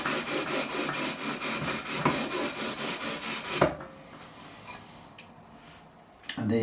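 A fret-levelling file rubs back and forth across the frets of a Korean-made Squier Stratocaster in quick even strokes, then stops abruptly, leaving faint handling noises before a short scrape at the end.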